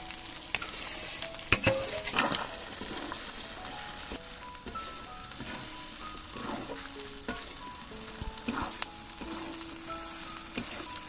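Ginger, onion and garlic pastes fry in a pan for a village-style chicken dish, a low steady sizzle with scattered clinks and scraping stirs and a few sharp taps, no speech.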